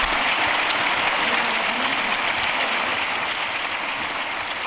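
Applause fills the Colombian Congress chamber during Petro's speech, a dense, even wash of many hands clapping at once that holds steady throughout without any speech.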